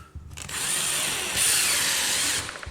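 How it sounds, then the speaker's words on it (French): A power drill whirs steadily and loudly as it bores into a ceiling to mount an LED strip cable, rising briefly in pitch partway through before it stops. "Faut pas percer à travers le câble"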